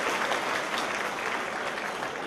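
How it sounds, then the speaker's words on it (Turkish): An audience at a 20th-anniversary association gala night applauds in a dense, even wash of clapping that holds steady at moderate distance, with no voice over it. "Bir alkışlar istiyorum ve size alkışlar veriyorum."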